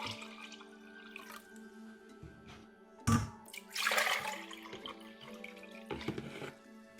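Water pours and trickles into a measuring container in a kitchen while preparing saturated brine for salting duck and chicken eggs, with a steady running stream, a louder splashing surge midway and dripping sounds.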